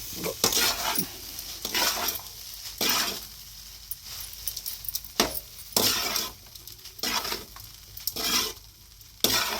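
Coconut rice is stirred in a pot with a spoon, making repeated scraping and sizzling bursts in an irregular rhythm, close and fairly loud, with no voices.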